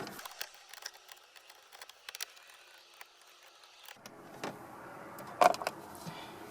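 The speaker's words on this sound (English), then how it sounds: "And there's 2 7mm screws here that need to come out." A ratcheting tool backs out two 7mm screws from the console tray of a Ford Mustang, quiet rapid clicks and mechanical ticks near the microphone, ending in a brief louder clatter.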